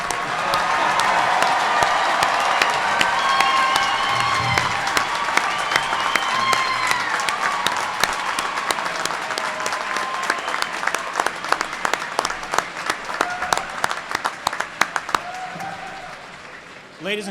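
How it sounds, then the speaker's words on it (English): A graduation ceremony audience applauding and cheering, a loud dense roar of clapping and voices that gradually thins into scattered individual claps and fades near the end. "What about a round big hand of applause for the captain here?"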